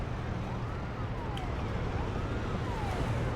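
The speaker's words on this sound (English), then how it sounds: "There are sirens" Sirens in the city-building game Workers & Resources: Soviet Republic, a faint wailing tone rising and falling over a dense, steady background rumble of the game's soundscape.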